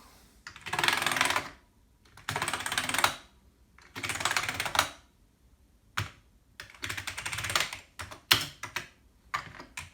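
Keys on a Commodore Amiga 1200 keyboard are typed in quick, clattering bursts of a few seconds each, with short pauses between them, close and clear with no talk.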